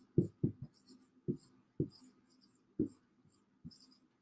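Red endothelial cells are being drawn with a pen or marker in a few short, quiet strokes and taps, spaced irregularly against near silence.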